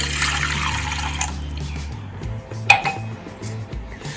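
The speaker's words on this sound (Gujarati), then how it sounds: "તેમાં આપણે એક ગ્લાસ જેટલું પાણી એડ કરીશું" A glass of water is poured into a medium-sized bowl while making lemon sharbat, a brief close pour with a faint clink of glass on the bowl, followed by quieter handling.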